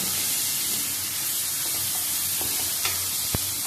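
Onion sizzles and fries in a pan while being cooked soft for a drumstick leaf vegetable dish, a steady dense hiss with a couple of faint clicks of stirring, close and moderately loud.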